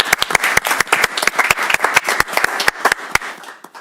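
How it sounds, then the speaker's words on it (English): Audience applauding at a Madison Heights city council meeting, a short burst of sharp individual claps from a small group indoors, loud and close, fading out after a few seconds. "I think we should give them a round of applause"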